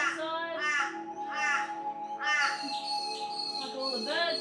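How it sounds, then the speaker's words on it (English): Several harsh crow caws in quick bursts, fairly close, over a steady background hum with other birds faintly present. "Like all the birds and the crows."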